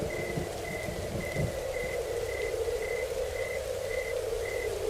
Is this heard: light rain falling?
yes